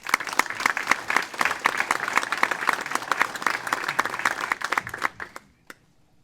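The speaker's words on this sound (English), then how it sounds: "a big round of applause." An audience at a town government address applauds steadily with dense, sustained clapping that fades and stops near the end.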